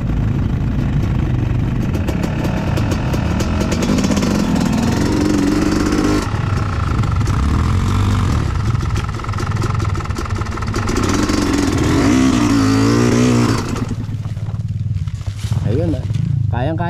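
A motorcycle engine rumbles and revs continuously while riding a rough, deep road from General Tinio toward Dingalan, with someone talking over the engine noise.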